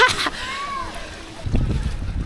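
Water splashes and rushes at Daranak Falls in Tanay, Rizal, a steady broadband wash that swells louder in the second half, with voices heard briefly at the start.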